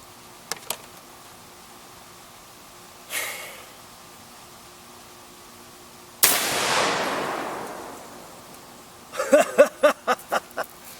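A 20mm air rifle running on 3,800 PSI helium fires at a pumpkin: a short burst, then one loud, sharp blast followed by a long fading rush, and finally a cluster of quick clattering thumps.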